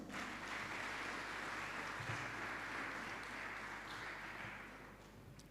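Faint, distant applause from an audience at a school graduation ceremony in 2022, a steady wash of many hands clapping with no breaks until the end.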